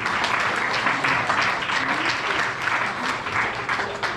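Worshippers at an evangelical church's anniversary celebration break into sustained applause for the Lord. The clapping is continuous and crowded, carrying evenly through the hall with some faint voices mixed in.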